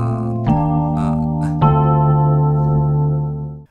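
A short piano rhythmic fill from the bridge of a song plays as sustained chords, with two quick accented re-strikes before a held chord that fades out.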